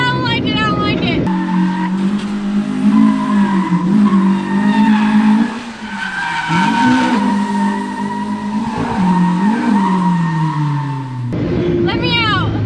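Honda-powered drift car skidding with loud, sustained tire squeal and a revving engine whose pitch rises and falls over about ten seconds, close and continuous, with voices around it.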